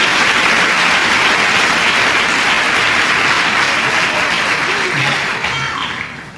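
A church audience applauds strongly, dense continuous clapping close and loud throughout, tapering slightly at the end with faint voices beneath.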